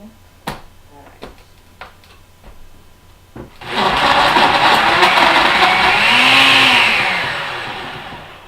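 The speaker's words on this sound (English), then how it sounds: "so we're going to go ahead and blend this" Several sharp clicks and taps come first, then a blender kicks on loudly with a steady high-pitched whirring motor roar, blending a milkshake and slowly winding down near the end.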